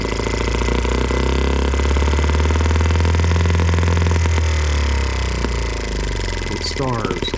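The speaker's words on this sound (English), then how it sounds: "To get it to idle with this fuel in it, it needs to run lean. You got to give it the juice and" Small M12B engine running lean on alternative fuel, throttled up with a steady loud drone and low rumble that surges, then eases back toward idle near the end.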